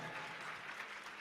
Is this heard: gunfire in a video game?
no